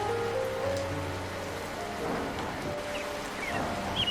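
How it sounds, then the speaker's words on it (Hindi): Steady rain falls in an animated cartoon scene, a continuous wash of patter that stays even and fairly loud throughout, with faint tonal music and effects layered underneath. "देखो अभी बारिश हो रही है"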